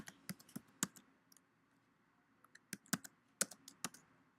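Close, crisp computer keyboard typing comes in short irregular bursts of clicky keystrokes with brief pauses between them, heard alone with no voices.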